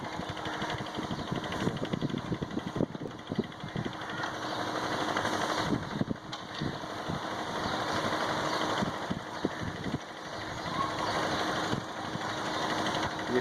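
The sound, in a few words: dump truck engine arriving at bridge construction site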